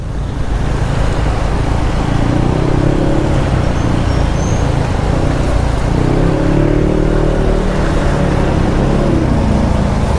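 Dense road traffic with many vehicles jammed together, a constant loud wash of engines and tyre noise with low rumbling passes, recorded from a motorcycle in the thick of it.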